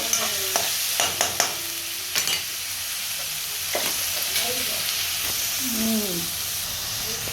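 Onion sautéing in a pan with green chillies, a steady sizzle and frying hiss throughout, broken by several sharp stirring scrapes early on, with faint voices in the background.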